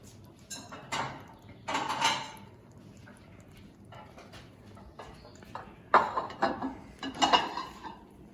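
Kitchen bowls being picked up and set down after cooking mushroom risotto, several scattered clinks and knocks of dishes, close but moderate in level, with no talk.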